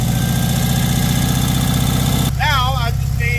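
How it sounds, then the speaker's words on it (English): Small Cushman Truckster utility vehicle engine running after a carburetor swap, a loud steady idle with a rhythmic low throb, joined near the end by a brief whistling or squealing sound over the engine. "once it had enough engine speed, really fired right up."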